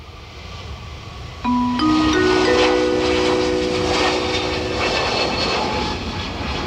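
A Jetstar jet airliner takes off from runway 28R at Dublin Airport; the engine roar swells suddenly, with rising whining tones over a broad rushing rumble that holds steady.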